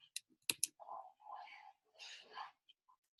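Several sharp, quiet computer mouse clicks, a few in quick succession, scattered between soft murmured speech close to the microphone.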